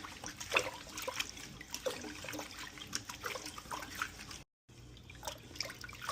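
Brown rice is washed in water by hand, with continuous sloshing, trickling and dripping close up and a brief drop to silence partway through.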